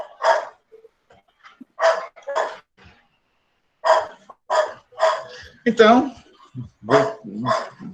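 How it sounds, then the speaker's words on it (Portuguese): A dog barks in a series of sharp bursts, roughly a dozen in short clusters, fairly close in a home setting, with a single brief spoken word among them. "Esse meu cachorro está latindo aqui."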